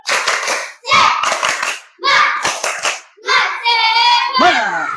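Classroom of Indonesian schoolchildren repeating the rhythmic tepuk semangat spirit clap more energetically, patterned bursts of hand claps and group chanting in short phrases with brief gaps.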